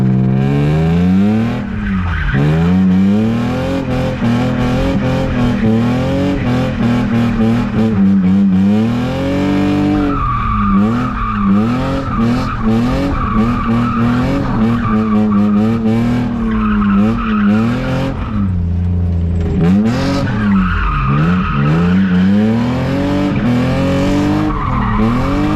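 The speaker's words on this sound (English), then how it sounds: "every time I take this car on, I itch to freaking skid it" A loud BMW E36 skids with long squealing tire screeches that rise and fall over a roaring, revving engine, the squeals repeating in waves for the whole stretch near houses.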